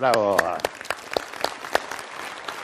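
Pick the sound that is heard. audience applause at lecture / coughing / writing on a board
audience applause at lecture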